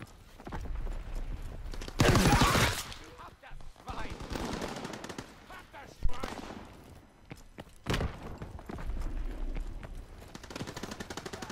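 Gunfire from Call of Duty WWII, with bursts of automatic rifle fire and sharp single shots at close range, interspersed with thuds and footsteps, while a player talks briefly.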